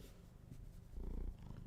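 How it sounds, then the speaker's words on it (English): A cat purrs close by in a steady low rumble that swells louder near the middle and then eases, with no speech over it. "Can you hear the purrs?"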